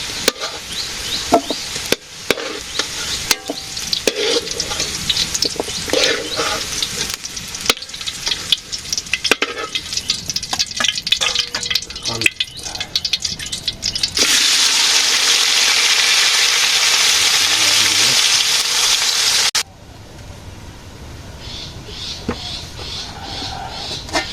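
Potatoes fry in a pan, loud close sizzling and crackling with frequent scraping and stirring clatters of a utensil, then a stretch of steady hissing that cuts off to quieter sizzle near the end.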